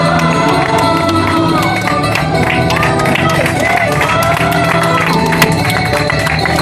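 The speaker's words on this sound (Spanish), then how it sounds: "También un fuerte aplauso para ellos" Spectators at a Basque rowing regatta in Sestao applaud and cheer as the boats make their final strokes, a dense, continuous crowd noise with clapping throughout, while a commentator talks over it.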